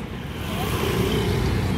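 Steady evening road traffic in the Paladi area of Ahmedabad around 8 pm, a continuous rumble of passing cars and heavier vehicles, loud and unbroken with no talk.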